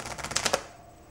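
A deck of playing cards being shuffled: a quick rapid flutter of riffled cards, dense clicking for about half a second, then fading out, close and alone.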